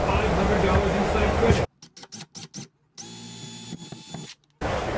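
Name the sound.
power drill with 1/8 inch bit drilling pilot hole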